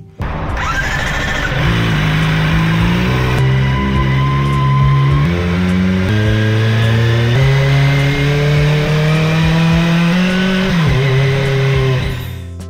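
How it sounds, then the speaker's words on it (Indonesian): A Kawasaki Ninja ZX25RR with a 250cc inline four-cylinder engine revs hard and close, its shrill whine climbing and falling through several blips with no talking over it. "Kawasaki Ninja ZX25RR, yang pada motor ini memiliki mesin 250cc tapi menggunakan mesin 4 silinder inline yang bisa menghasilkan suara kayak gini"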